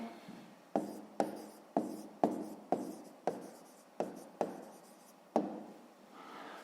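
Pen on paper writing down a sixth-grade maths answer: about ten short, crisp scratching strokes in an even rhythm, close and quiet, with no voice.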